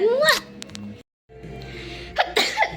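A single sharp sneeze bursts out at a casual home birthday celebration, followed by a brief silence and then people chatting nearby.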